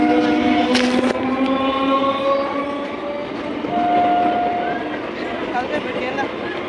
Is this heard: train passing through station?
yes